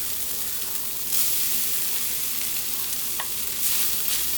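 Vegetables are stirred in a hot frying pan under a steady, close sizzle, with brief scraping swells as the food is tossed around.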